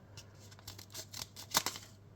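Scissors cutting through a folded sheet of paper, several close, quick crisp snips building to a louder cut near the end, with no talking.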